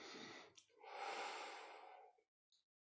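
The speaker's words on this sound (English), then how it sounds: "Breathing into your nervous system." Slow, deep breathing during a guided meditation: a short intake followed by a long, airy exhale close to the microphone, then near silence with one brief faint breath at the end.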